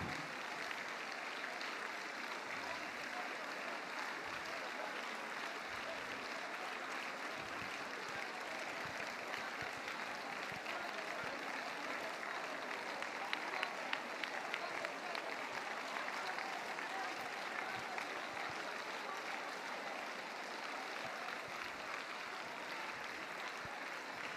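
Church congregation at a mass prayer service clapping for the Lord, a long, even stretch of applause that swells slightly midway, with faint voices mixed underneath.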